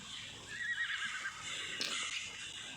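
A horse (Equus) in the mobile version of ARK Survival Evolved gives a drawn-out neigh over steady game ambience, with a brighter whinny burst near the end; no one talks.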